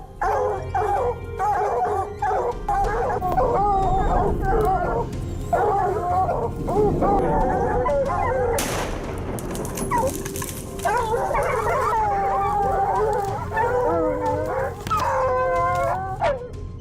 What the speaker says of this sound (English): using a hunting dog with a GPS collar